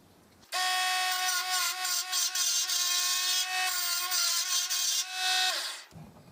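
Wood spinning on a mini lathe while a chisel cuts it, producing a steady high whine with scraping, heard close and loud for about five seconds before the motor stops abruptly.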